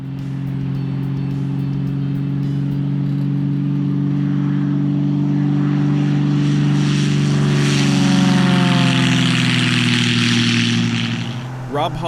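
A propeller airplane engine drones loudly, its pitch shifting as it passes close overhead and then pulls away.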